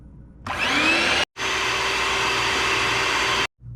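Electric hand mixer whips non-dairy heavy whipping cream in a bowl, a loud steady motor whine that starts abruptly, cuts out briefly, then resumes and runs evenly before stopping.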